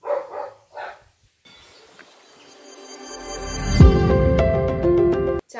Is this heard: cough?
no